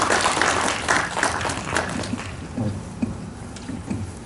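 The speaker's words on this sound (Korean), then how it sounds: "감동의 박수를 치시는 분들 계시는 것 같고요" Audience applause at a Korean council policy debate on school size, a room of people clapping with dense broadband patter that thins and softens toward the end, with faint talk underneath.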